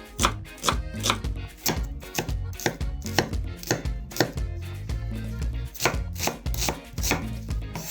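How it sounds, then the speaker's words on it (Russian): A knife dices a large onion into small cubes on a cutting board, giving a quick, steady run of sharp chopping taps close up, with no voices. "Нарезаем один большой лук некрупным кубиком."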